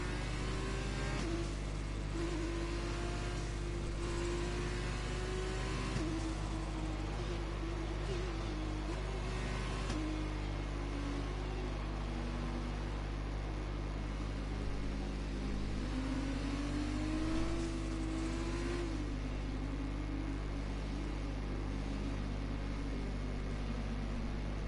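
F2 race cars from a racing video game circle Monza behind the safety car, their engines droning in a steady, moderate hum with slight rises in pitch throughout.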